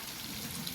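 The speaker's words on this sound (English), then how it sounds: "So now we're putting the chicken broth in." Chicken broth pours steadily into a pot of rice, a soft continuous splashing stream at low level with no talking.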